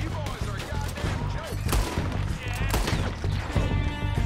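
Rapid bursts of gunfire from Red Dead Redemption 2 crack loud and close in dense volleys, mixed with game music and shouting voices throughout.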